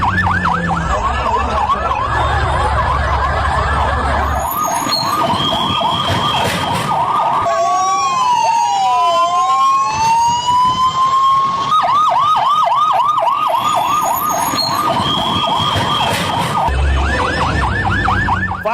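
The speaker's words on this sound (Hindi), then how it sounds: "देखिए फायर ब्रिगेड की गाड़ियां मौके पर पहुंचने लगी" Wailing fire engine sirens arriving at a burning plane, loud and continuous, cycling in rising and falling sweeps, with a steady yelp pattern and a brief higher warble in the middle.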